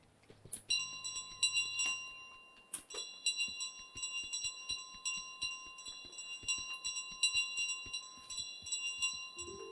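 A small hand bell rings repeatedly in Untitled Goose Game, bright metallic chimes with a sustained tone under busy, irregular game sound effects, fairly close and moderately loud.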